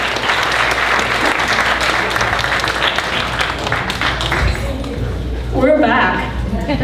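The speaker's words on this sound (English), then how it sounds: "let's have a big round of applause for Camille and Oksana" Loud, dense applause from a talent show audience, with clapping and some cheering filling the space throughout before easing slightly near the end.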